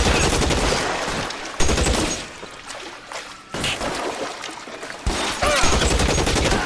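Tommy gun fire in a video game comes as loud, close, rapid bursts, three separate volleys broken by short pauses.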